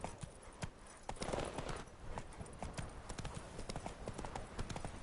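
Steady clip-clop of horse hooves on a path in The Witcher 3, a quick rhythmic patter that runs close and clear through the whole stretch, with faint voices behind it.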